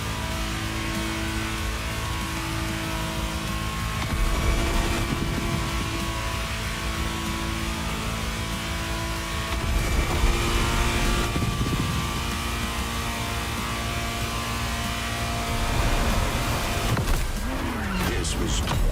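A rented Ferrari in The Crew Motorfest accelerates with a sustained engine drone that swells in several surges, and a brief higher whine comes near the end.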